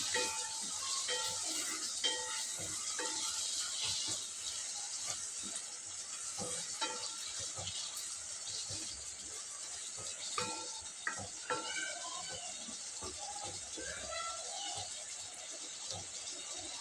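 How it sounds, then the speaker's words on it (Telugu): A spoonful of turmeric stirred into ridge gourd gravy curry frying in a pan, heard as continuous soft sizzling and hiss with repeated light scraping and clinking stirs throughout, fairly quiet and close. "ఇలా అయిన తర్వాత ఒక చెంచా పసుపు వేసుకొని కలుపుకోవాలి."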